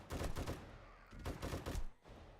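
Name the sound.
light machine gun firing in video game 7 Days to Die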